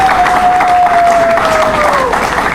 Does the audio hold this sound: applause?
yes